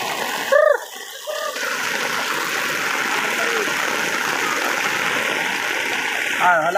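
Heavy rain pours with water running steadily nearby during a provincial flood, a continuous rushing wash held at even loudness throughout, with brief voices and short tonal sounds breaking in near the start and the end.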